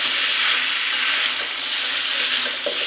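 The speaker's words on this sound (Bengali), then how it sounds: "এখন ভালোভাবে মশলাগুলো মাখিয়ে নেব।" Spices are stirred into pumpkin and eggs in a hot pan, giving a close, continuous hiss and sizzle with soft scraping as the mixture is turned, and no one talks.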